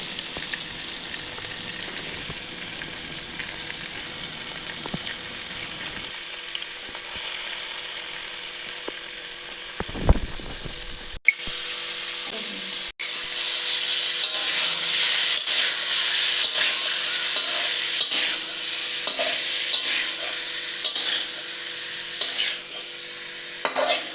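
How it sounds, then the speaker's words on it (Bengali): Chicken pieces go into hot mustard oil in a wok. A quieter sizzle with occasional clatter swells into a loud, dense frying hiss, with repeated stirring scrapes over it. "মাংসগুলো আমি হালকা করে একটু ভেজে নেব।"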